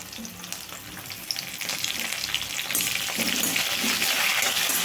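Torn green chillies and curry leaves frying in a pan, a dense crackling sizzle that grows louder and fuller midway, as if more goes into the oil, steady and close with no talk.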